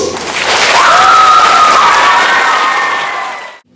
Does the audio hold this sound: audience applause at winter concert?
yes